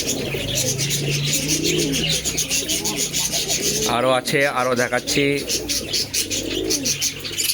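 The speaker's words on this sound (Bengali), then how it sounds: "পায়রার ডাক দেখছেন তো, মনে হচ্ছে না যে পায়রা এখনই এলো। পায়রার ডাক দেখুন খালি।" Pigeons coo in repeated throaty warbling calls close by, mixed with rubbing and rustling sounds, while someone talks over them.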